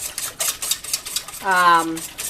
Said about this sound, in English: whisk in 2 eggs and beat them really well